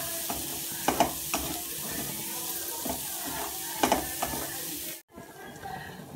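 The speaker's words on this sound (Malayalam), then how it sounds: "ഇത് നന്നായി ഇളക്കാം പഞ്ചസാര ഇതിൽ നല്ലോണം മെൽറ്റായി വരണം" Sugar is stirred in a pan over heat as it melts, giving a soft, close, steady sizzle with a few louder scraping strokes of the spoon, before the sound cuts off near the end.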